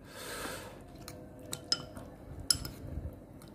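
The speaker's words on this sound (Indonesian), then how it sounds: "Aduk." Cutlery stirs food mixed with chili sauce, giving scattered light clinks and scrapes against a dish. The sounds come at an uneven pace, close by, with no talking.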